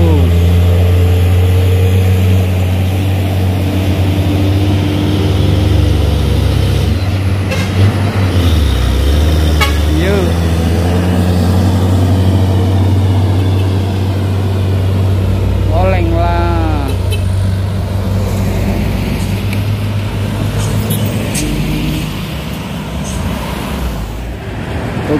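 A Hino truck grinds up a steep hill at Bukit Kodok, its engine a loud, constant low drone. Horns toot and other traffic passes nearby while people talk.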